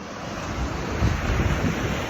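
Ocean surf rolls onto the beach at Patong, Thailand as a continuous wash of breaking waves, partly buried under heavy wind buffeting the microphone and steady throughout.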